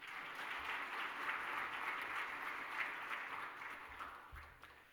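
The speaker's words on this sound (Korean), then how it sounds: "박수로 환영해 주시기 바랍니다." A church congregation at a Sunday service applauds steadily to welcome a new pastor, a soft continuous patter of many hands heard from a distance.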